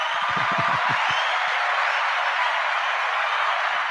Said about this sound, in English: let's give that a round of applause and keep that applause going